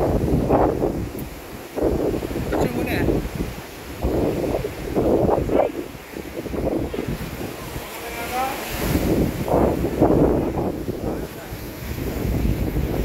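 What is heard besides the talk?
strong wind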